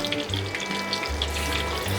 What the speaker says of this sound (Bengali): এটা জাস্ট ওপরের কোটিংটা ফ্রাই হবে